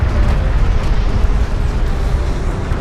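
Heavy, rumbling blast of a strike craft exploding in the game Homeworld: Deserts of Kharak, a loud, sustained low roar with no clear breaks.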